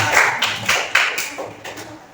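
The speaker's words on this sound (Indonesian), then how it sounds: "Iya, kita tepuk tangan." A classroom of students clapping hands together in a short burst of scattered, uneven claps, fairly close and moderately loud, with no talk over it.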